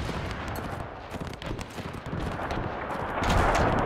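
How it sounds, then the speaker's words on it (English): Artillery and gunfire rumble on a World War I battlefield in Between Empires, a dense, continuous barrage of overlapping distant blasts and crackling shots that swells louder toward the end, with no voices. "Just the artillery going crazy on us as we're closing in here"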